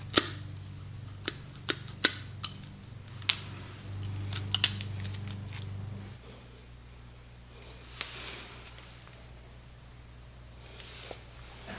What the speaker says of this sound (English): we're snipping it off here